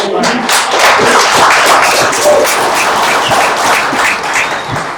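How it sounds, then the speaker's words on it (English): Audience at a city council meeting clapping, a dense, steady patter of many hands that swells and slowly thins over several seconds. "Don't let that clapping take away from my minutes."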